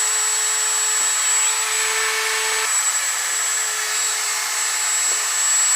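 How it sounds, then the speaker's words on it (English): A rotary tool with a grinding bit carves out a custom pot, giving a steady high-pitched motor whine that shifts pitch slightly as the bit loads and eases, close and continuous without talk. "Now what you're basically doing is using the edge of this grinding bit"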